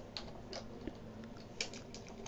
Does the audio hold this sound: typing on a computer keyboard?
yes